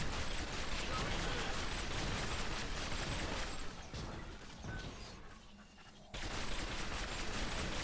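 Sustained rapid gunfire from a weapon in the PS3 video game Fracture, a dense, loud stream of shots with crashing impacts that briefly thins out before surging back at full intensity.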